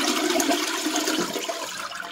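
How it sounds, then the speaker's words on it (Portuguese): A household toilet flushes in one continuous loud rush of swirling water close by, with no voices, after a cleaning product has been added to the bowl. "vai, ó, dar descarga."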